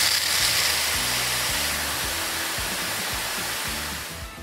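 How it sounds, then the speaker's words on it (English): Water cannon spray during PAW Patrol toy play, a steady loud hiss of spraying water running continuously and easing slightly at the end, with soft lower thumps beneath. "And I'll use my water lance to keep the dust down."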